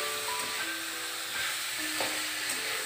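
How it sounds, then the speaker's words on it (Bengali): Bitter gourd and potato frying in a pan: a constant, even hiss of hot oil with faint occasional stirring touches, heard up close and without any voices. "আর এই উচ্ছে আর আলুটাকে আমি ঢাকা দিয়ে দিয়ে ভেজে নেব।"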